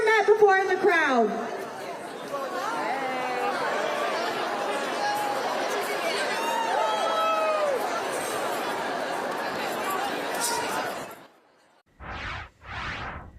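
A large protest crowd at the Austin state capitol chatters and greets one another, a dense hum of many overlapping voices after a brief spoken line, then fading out.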